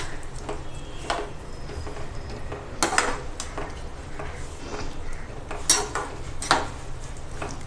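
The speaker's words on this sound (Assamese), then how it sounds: "এতিয়া অলপ লৰাই দিওঁ ভালদৰে এই আটাইকেইটা বস্তু ভালদৰে অকণমান লৰাই লওঁ" Chicken egg pakora ingredients with onion being stirred in a bowl, a spoon repeatedly scraping and clinking against the dish in irregular strokes, close up with a quiet background hum and no speech.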